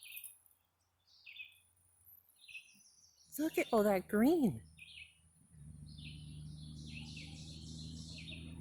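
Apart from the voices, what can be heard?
birds singing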